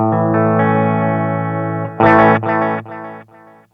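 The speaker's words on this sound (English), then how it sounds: "Now what I'm going to do is I'm going to turn on the delay, the Donner" An electric guitar played through a micro-sized Donner digital delay pedal rings out sustained chords, then sharper strummed hits whose repeats trail off in fading echoes, loud and up close, with no talking.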